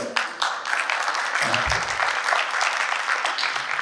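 An audience claps steadily throughout at a talk session, a dense patter of hands that swells early and holds, with a brief low murmur partway through.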